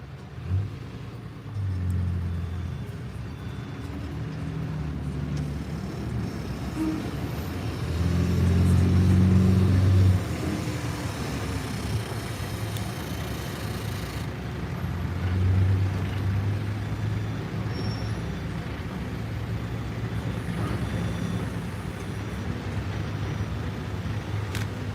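Trucks drive at SpaceX Starbase in Boca Chica, Texas, with a continuous low engine rumble that swells and fades as they pass at a moderate distance, heard outdoors with no talking.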